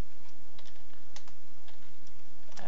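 Rapid, light clicking of a computer keyboard as a login username and password are typed, the keystrokes coming in close uneven runs, near and alone.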